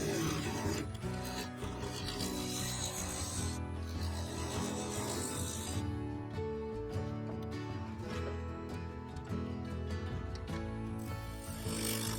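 A skew chisel flattens and levels the surface of a sapele and epoxy resin vase spinning on a lathe, a steady rasping scrape over a constant motor hum with no talking.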